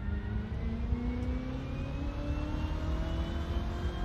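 A race car engine in the sim racing game Assetto Corsa drones with a steady, slightly muffled tone, its pitch climbing slowly as the car accelerates, and no voices over it.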